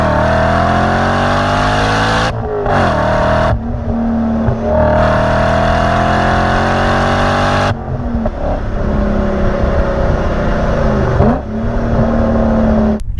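A BMW M5 sedan engine revs hard and loud, climbing in pitch through several gears with brief drops at each shift, close and alone without any talk.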